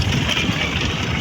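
A motorbike engine runs steadily at close range, a continuous rumbling drone with no breaks and no voices over it.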